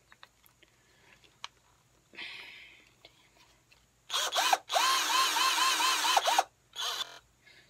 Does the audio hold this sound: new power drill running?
yes